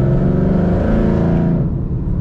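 2011-14 Ford Mustang 5.0 V8 with stainless mufflers revving, a loud, close, deep exhaust roar that climbs and then falls away.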